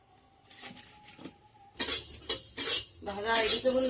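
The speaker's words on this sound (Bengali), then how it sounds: "এবার মশলা কোনো ভেজে নিই।" Coriander and black pepper dry roasting in a pan, stirred with a metal utensil that scrapes and clinks against the metal in a few quick bursts, close and fairly quiet.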